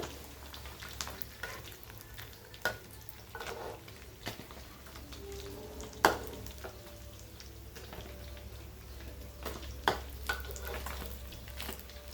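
Steady sizzling and crackling of oil deep-frying sun-dried snakehead fish, with occasional clinks and stirring knocks, fairly quiet and with no voices.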